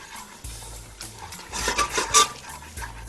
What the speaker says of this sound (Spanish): Y ahora hacemos sí el sofrito, que es seguir cocinando esto suavemente.